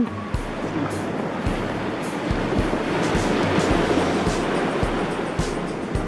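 Surf washing onto a beach on eastern Nusakambangan Island, Indonesia: a steady, loud broadband rush of breaking waves with low, rhythmic thumps recurring about every second, and no voices.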